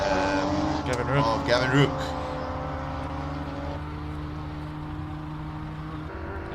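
A Porsche racing car climbs the Simola hillclimb in a steady engine drone that fades into the distance, while a commentator talks over the early part.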